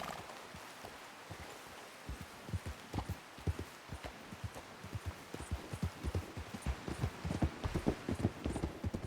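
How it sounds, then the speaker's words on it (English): A horse's hooves clip-clop in Red Dead Redemption 2, faint and quiet, with the steady rhythmic beat growing more frequent and a little louder toward the end. No one speaks. "Clip clop, clip clop, clip clop, clip clop."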